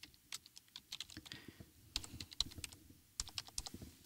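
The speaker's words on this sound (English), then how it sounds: "So we'll type that in." Quick bursts of typing on a computer keyboard, close and fairly quiet clicks in two short runs with a brief pause between them.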